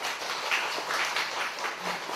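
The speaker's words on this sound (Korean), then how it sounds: "동의하신다면 박수 부탁드립니다." An audience at a talk applauds, a soft, steady patter of many hands clapping at a moderate distance, fairly quiet and even throughout with no voices over it.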